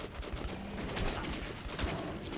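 Gunfire in the first-person shooter Metro 2033 Redux, a rapid, dense burst of shots with sharp repeated cracks over a noisy, busy background, loud and continuous.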